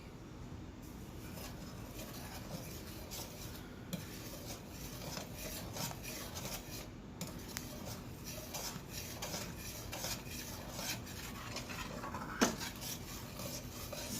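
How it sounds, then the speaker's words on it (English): Food being stirred in a pot on a medium stovetop, a continuous quiet rasping scrape with occasional light metal clinks. "Just want to stir this up."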